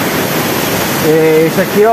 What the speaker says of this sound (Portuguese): Essa é a cachoeira do Sertão do Cacau.